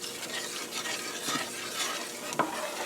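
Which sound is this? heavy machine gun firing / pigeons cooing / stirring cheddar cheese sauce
stirring cheddar cheese sauce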